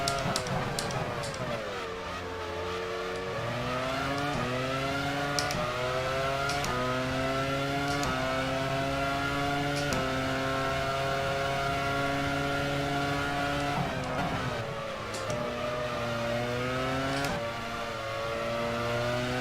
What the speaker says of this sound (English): I constantly hear Ralf Schumacher's engine so insanely close whenever I go into that corner